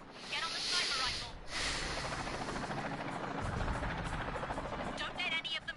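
Viper attack helicopters in an action video game, arriving high and landing on a rooftop, with a steady loud rotor roar and whine that fills the whole stretch and swells slightly midway.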